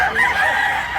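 Rooster crowing in a sustained, fairly loud call lasting about a second, a big-size gamecock raised in the mountains, alone with no talk over it.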